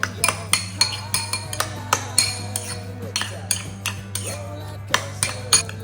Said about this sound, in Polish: Całość mieszam.